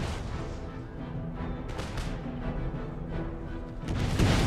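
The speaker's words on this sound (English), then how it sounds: "Second volley." Another musket volley in Empire Total War battle, a quieter rolling crackle of scattered gunfire and distant booms over battlefield din, swelling louder toward the end.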